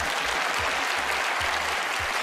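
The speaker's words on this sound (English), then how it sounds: "Give her a round of applause." An audience at a magic show bursts into sustained applause, a dense even wash of many hands clapping without pause, fairly distant and with no voices on top.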